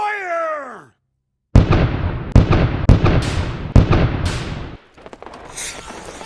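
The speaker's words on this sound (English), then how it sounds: "Under the cover of cannon fire," A series of heavy booming blasts, about five in quick succession, each loud and sharp with a rumbling decay, followed by a crackling burst.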